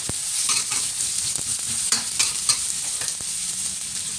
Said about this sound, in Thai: ผัดกระเทียมกับหอมใหญ่